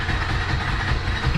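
A tuk-tuk (auto rickshaw) engine in Sri Lanka being cranked with the key without catching, a steady, close, low rumbling churn that runs unbroken and without a clear start.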